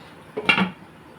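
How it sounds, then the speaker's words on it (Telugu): A lid set onto a cooking pot of simmering raw mango curry makes one short, close metallic clatter that is over in a fraction of a second, with quiet around it and no voice. "కలిపేసి మూత పెట్టేసుకుని మెల్లిగా ఉడుకుతుంది మూత పెట్టేసుకుందాం"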